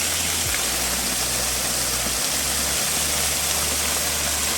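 Small waterfall in the middle of a country property, water pouring steadily with a dense, continuous rush close by, no talk over it.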